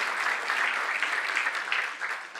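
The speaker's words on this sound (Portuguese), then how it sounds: "Vamos aplaudir o irmão aí." A church congregation at a Baptist conference service claps together, a steady dense round of applause filling the space evenly before tapering slightly at the end.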